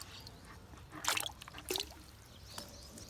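Two brief, close splashes of water a moment apart, quiet against a soft background hiss, with no talking.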